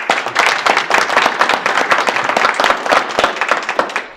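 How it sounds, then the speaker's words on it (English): A town hall audience applauds after an emergency operations plan presentation, a dense, fairly loud round of clapping held steadily throughout with little else over it. "So can we give Mr. Vincent a round of applause?"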